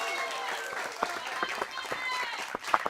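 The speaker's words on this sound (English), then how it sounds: "I think we should give Megan another round of applause" Audience applause at an evening science talk, a round of clapping for a host named Megan, steady and close with sharper individual claps throughout.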